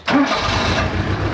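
An engine with a small battery on a charger cranks and catches abruptly, then settles into a steady, close, rough idle.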